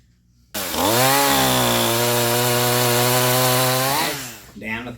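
A Stihl MS 181C chainsaw fires up on a pull start and runs loud and close, its engine revving up and holding a steady high whine for about three seconds before dropping back, a voice briefly heard at the end.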